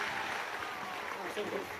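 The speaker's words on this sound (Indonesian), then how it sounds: "Tepuk tangan untuk Mas Gibran Raka Buming Raka." Applause at a boarding school anniversary event in Sleman welcoming the Vice President, quiet and distant, with a voice faintly heard over it.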